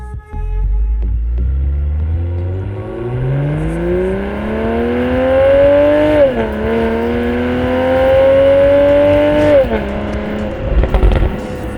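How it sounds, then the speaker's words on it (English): A Toyota Supra engine with an opened-up exhaust valve revs up loudly and climbs in pitch, then shifts gears twice with brief dips before pulling hard again, close and throaty. "the exhaust valve has also been opened up not only to provide a louder exhaust note"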